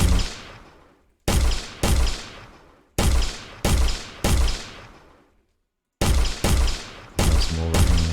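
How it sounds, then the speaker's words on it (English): Projectiles striking and shattering destructible objects in an Unreal Engine 5 Chaos Destruction demo: about ten sharp, loud gunshot-like bursts, each followed by a decaying crumbling tail, arriving in irregular groups separated by silent gaps. "So I'll just shoot the different objects and break them up."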